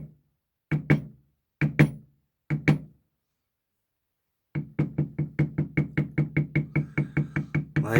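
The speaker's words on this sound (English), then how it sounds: "Light, fast taps." A tool strikes leather being stamped: four separate solid knocks, a pause, then a quick even run of light, fast taps, all close and clear with no voices.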